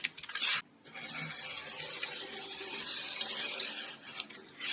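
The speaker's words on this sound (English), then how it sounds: "Hold that down. Come in with my blade." A blade slices through Amazon cardboard packaging at a quarter-inch mark, giving close rasping, scraping strokes: a sharp burst at the start, a brief pause, then a long steady scratchy cut.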